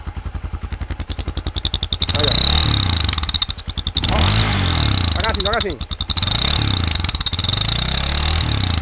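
A Honda XRE 300 motorcycle with a homemade whistle mod idles and revs in bursts, loud and close, with a steady high whistle riding over the engine throb while someone speaks briefly.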